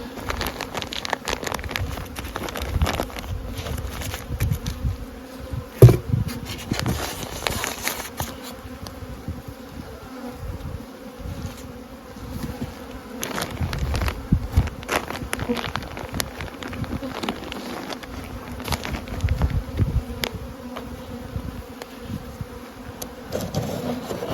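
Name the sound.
bees buzzing at hive entrance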